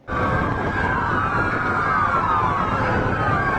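Several police and gendarmerie sirens wail together in a convoy, loud and continuous, with their tones overlapping and slowly shifting over a steady traffic rumble.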